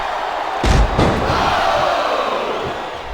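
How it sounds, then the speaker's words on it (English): A wrestling arena crowd in the WWE SmackDown vs Raw 2007 video game roars steadily, swelling with cheers after a couple of sharp impact thuds early on. "I love hearing the crowd come alive"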